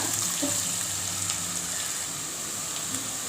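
Onions sizzle and crackle steadily in a hot pan while cooking tomato biryani, a continuous frying hiss with occasional soft pops, close and moderately loud.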